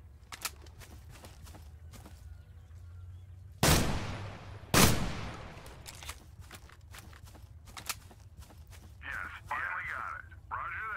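Two sharp, loud gunshots from the war game Total Conflict: Resistance crack about a second apart, each with a decaying echo, amid quieter clicks and footsteps.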